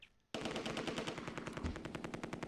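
Sustained machine-gun fire in the World War II tactics game Close Combat II, a loud rapid stream of shots starting abruptly after a brief quiet moment and continuing without pause.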